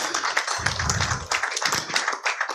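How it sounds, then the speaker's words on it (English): Round of applause for a government minister at a finance workshop, dense clapping from a seated audience rising to its feet, steady and fairly close with a few louder individual claps. "let's just rise and join me in giving another round of applause to the"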